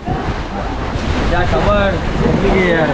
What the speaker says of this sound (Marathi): असं खवल आहे समुद्र बघा.